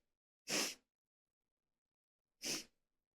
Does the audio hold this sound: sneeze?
yes